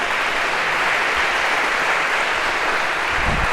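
Audience applause fills the room, steady and loud throughout as a crowd claps for a volunteer called up on stage, with no talk over it.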